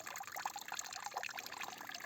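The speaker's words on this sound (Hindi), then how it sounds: "एक के बीच में से पानी बह रहा है" Water runs through a cut stone channel in a jungle setting, a steady, faint trickling and gurgling with no break.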